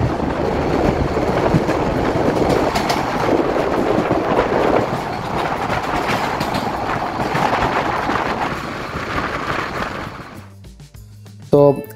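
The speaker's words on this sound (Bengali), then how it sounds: "শেষ মুহূর্তে মনে হচ্ছে ট্রেনটা সর্বোচ্চ স্পিডে চলতেছে" A passenger train runs at high speed on the Chittagong to Cox's Bazar line. Loud steady rumbling and rattling with wind noise carries under talk, then cuts off near the end with a few brief knocks.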